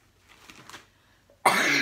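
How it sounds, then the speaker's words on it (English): A single sharp, loud cough bursts out after a second of near-quiet with faint breathing, harsh and close, continuing to the end. "I'm sorry for coughing."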